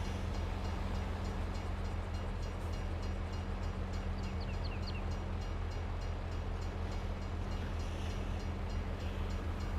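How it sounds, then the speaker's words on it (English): A train rolls past in a farming simulator game, a loud steady rumble with clatter that holds for the whole stretch and has no talk over it. "Choo-choo train!"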